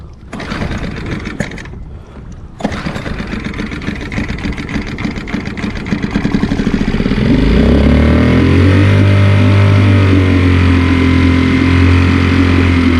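Kuda Performance Sport 2.6 HP 4-stroke outboard motor on a kayak sputtering unevenly at first, then catching and settling into a loud, steady droning run close by.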